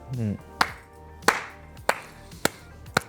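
A handful of people clap in slow, separate, sharp claps about half a second apart. The claps are close and distinct, and a voice speaks briefly at the start.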